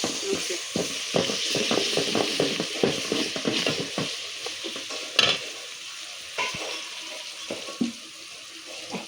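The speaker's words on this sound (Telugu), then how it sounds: "ఇవి అల్లం ఎల్లిగడ్డ మిక్స్ ఇది కొంచెం పచ్చివాసన పోయేంత గొలియాలి" Onions with ginger-garlic paste frying in a pan for chicken curry, a steady hiss under rapid irregular stirring scrapes and taps, with a few sharper knocks later on.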